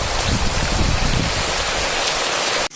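Heavy pre-monsoon rain pours steadily on the Konkan coast, a dense continuous hiss of drops on surfaces, loud and close, cutting off abruptly at the end.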